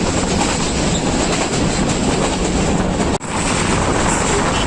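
Pakistan Railways Awam Express rolling on the rails between Rawalpindi and Peshawar, a loud steady rumble of wheels and carriage noise throughout, with a brief sharp dip near the end as if passing into a tunnel.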